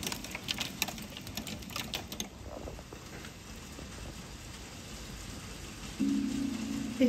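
Hail falling in Copenhagen in May, a dense irregular patter of small clicks and taps on surfaces, quiet and continuous, with a brief louder rush near the end.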